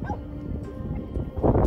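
Tibetan mastiff guardian dogs bark and yip at a blue bear rummaging in trash, a dense, loud cluster of overlapping barks and whimpers close by, with a noisy, rough background.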